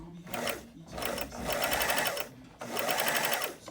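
A sewing machine run by its foot pedal, stitching in two long bursts with a brief pause between, close and fairly loud with a rapid mechanical patter.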